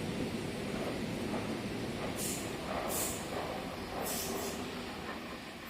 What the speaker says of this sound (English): Passing through platform number 4, 8-car Oscar bound for the Central Coast.